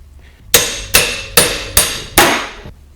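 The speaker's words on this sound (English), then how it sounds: "I'm going to use a socket that just fits inside here, push it all the way down and drive it out." Five sharp, evenly spaced hammer blows on a socket driving a front wheel bearing out of a Yamaha FJR1300 motorcycle rim, loud and close, each strike ringing briefly before the next.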